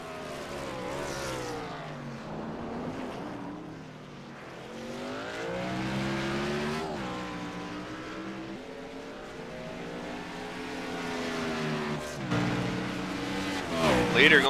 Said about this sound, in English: Leader going by slower traffic.